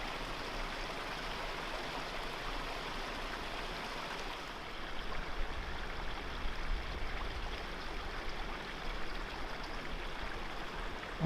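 A small cascade on a river in Shenandoah National Park flows steadily, a close, constant rush of water spilling into a pool below, with no voices.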